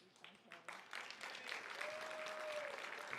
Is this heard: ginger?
no